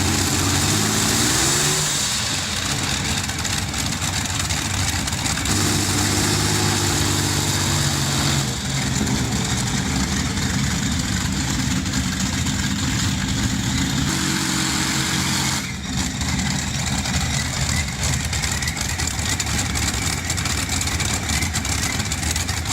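An aviation-engined car runs under throttle and boost, a loud, continuous engine roar with shifting pitch and steady drone throughout, heard alone without talk.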